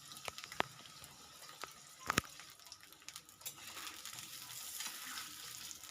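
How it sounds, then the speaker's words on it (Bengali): Diced potatoes dropped into hot mustard oil in a wok, giving a soft, steady sizzle with a few sharp pops and crackles near the start, fairly quiet with no talking. "তো তেলটা গরম হয়ে যাওয়ার পরেই আমি আলুগুলো এর মধ্যে"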